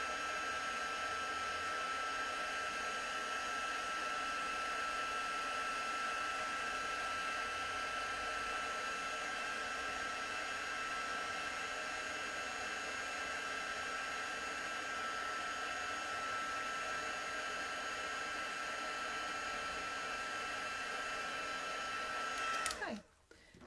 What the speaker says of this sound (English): I'm just going to heat my sentiment now to get that embossing powder to set.